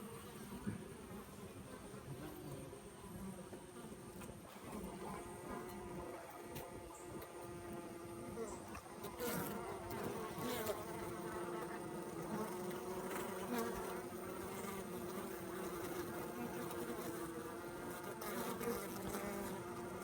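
Honey bees swarm around a queen cage at an open queenless hive, a dense and steady buzzing drone that carries on through the whole stretch, close and unbroken, with no voices.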